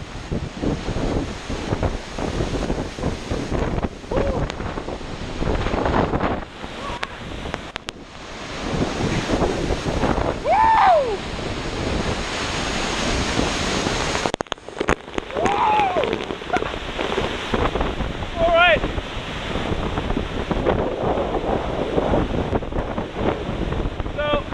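Waterfall roaring outdoors with gusty wind buffeting the microphone, a broad constant rush of falling water that dips briefly and returns, with faint voices and whistles now and then.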